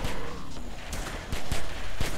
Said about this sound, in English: the gunfire doesn't help